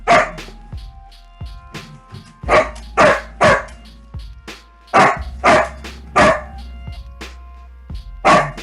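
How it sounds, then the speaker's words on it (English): A pet dog near its cage barks loudly and close by, in repeated sharp bursts of one to three barks separated by short pauses. "He barks so much, and it's so annoying."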